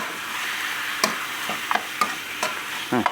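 Chili paste stir-fries in oil in a pan under a constant sizzle, with a spatula striking and scraping the pan several times at irregular intervals, close and clear, and no voices.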